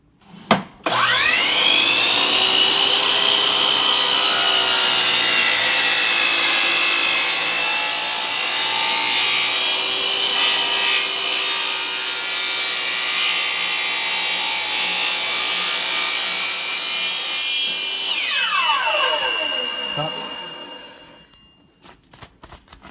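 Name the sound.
miter saw cutting wood for aquarium sump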